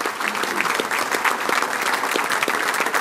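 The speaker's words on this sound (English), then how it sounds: "Can we please give these companies a huge round of applause?" Sustained applause from an audience at a regional chamber of commerce business salute, steady dense clapping throughout with no speech.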